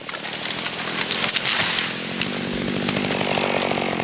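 A chainsaw cuts down a tree during logging work, its engine roaring loud and close with a rising, bogging whine as the chain bites into the wood, with no voices.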